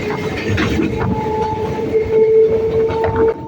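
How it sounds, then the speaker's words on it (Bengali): A local train leaving Ballygunge station on a Barasat to Canning run: close rumble and clatter of the carriages with a long, steady horn tone sounding through most of it. "বালিগঞ্জ থেকে ফাইনালি আমাদের ট্রেনটা ছেড়ে দিল"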